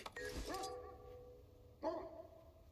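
A dog in the Guild Wars 2 video game barks on command, giving two short, clear barks about a second apart against a quiet background.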